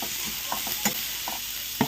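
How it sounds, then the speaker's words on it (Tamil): Vegetables, including cabbage, being stirred and sautéed in a hot pan, giving a low, steady sizzle with soft scraping stirs that pulse several times over a couple of seconds, with no talking. "சேர்த்து ஒரு 2 செகண்ட் நல்லா வதக்கணும்."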